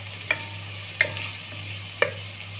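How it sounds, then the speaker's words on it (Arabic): Coriander and paprika being stirred in a pan, three spaced scrapes of a utensil over a low steady hum and faint sizzle, no talk. "هنضيف كزبره وبابريكا ونقلب كله مع بعضه."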